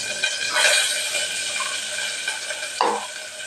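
Garlic and onions frying in a pan in a home kitchen, giving a close, steady sizzle with a few brief stirring scrapes and no talk.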